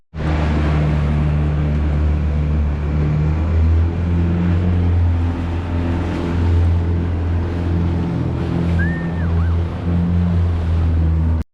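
Steady roar of ocean swell and surf from a small boat trolling off a tropical beach, broad and continuous throughout, with a low engine-like drone underneath and no talk.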